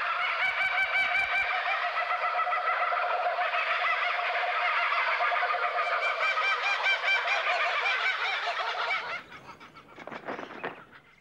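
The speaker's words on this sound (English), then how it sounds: "This chorus of raucous laughter from one group of kookaburras proclaims their territory to neighbouring" A group of laughing kookaburras calls in chorus in the Australian wild, a loud continuous raucous cackling that builds and then breaks into a few scattered, fading calls near the end.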